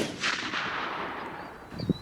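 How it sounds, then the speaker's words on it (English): A single gunshot at a shooting range makes a loud, close blast. A long noisy decay follows, with a faint thump near the end. "It's a very good shot right there."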